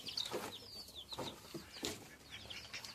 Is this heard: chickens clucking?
yes